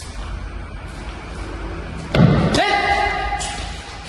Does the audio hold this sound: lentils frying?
no